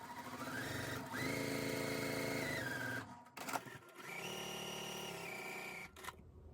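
A sewing machine stitches quilt block pieces in two long runs, each revving up to a steady whir and then stopping, with handling clatter in the pause between them.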